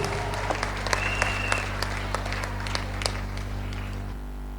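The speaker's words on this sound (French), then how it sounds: "Est-ce qu'on peut acclamer encore très fort pour le Seigneur Jésus-Christ?" A church congregation claps steadily in praise of Jesus Christ, a continuous patter of many hands with occasional sharper individual claps standing out, over a low steady hum.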